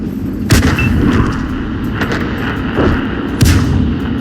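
Heavy gunfire from a video game firefight rings out as two loud, sharp booming shots, close and distinct, over a steady rumbling battle background.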